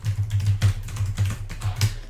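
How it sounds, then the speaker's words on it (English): Fingers type on a computer keyboard in quick, uneven bursts of crisp key clicks, close and clear, with brief pauses between words and no voices. "Here, I'll type it right here in the chat."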